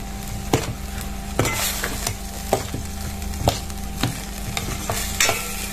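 Spices being stirred in a pan for a bean and potato khichuri, heard as a soft, steady sizzle with regular spoon knocks against the pan roughly every second, close and clear with no talking.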